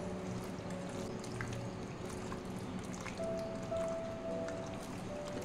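Raw chicken is mixed by hand with egg, ginger paste and garlic paste for chilli chicken, making soft, wet squishing sounds. The squelching is faint and continuous over a quiet kitchen background.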